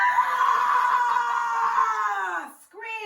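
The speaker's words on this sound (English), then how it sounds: "Then, taking a breath, she screamed" A person screams into a pot in one long, loud, sustained cry. It breaks off briefly, then starts again at the end.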